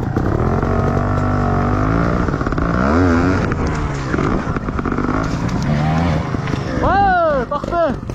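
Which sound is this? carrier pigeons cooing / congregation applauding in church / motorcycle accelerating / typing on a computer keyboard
motorcycle accelerating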